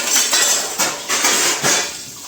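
Steel utensils and pots clatter as dishes are cleared in a home kitchen, a run of close clinks and knocks in uneven bursts with no talking.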